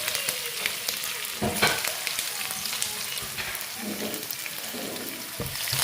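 Crushed garlic fries in hot oil with a dense, continuous sizzle and crackle heard close, with a few clinks and stirring sounds mixed in.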